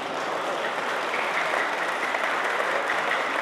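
Audience applause at a poetry recital during a mushaira in London, a dense, steady patter of many clapping hands lasting throughout, moderately loud and filling the hall.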